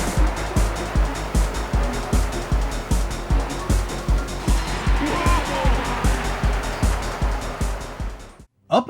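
Cars collide at top speed in an early PlayStation racing game, with a rapid series of heavy thumping impacts over a rushing, roaring engine and road noise, loud and dense, ending abruptly.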